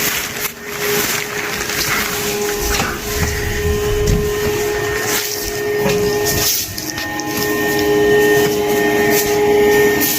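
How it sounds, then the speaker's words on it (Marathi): A powder duster machine spraying lime dust over silkworm rearing beds gives a loud, steady motorised whir with an airy blowing hiss and a faint tonal hum. It runs continuously throughout, with no talk. "पावडर डस्टरच्या साह्यानं आपण जे चुन्याचं डस्टिंग आहे हे चुन्या डस्टिंग घ्यायचं आपलं काम चालू आहे"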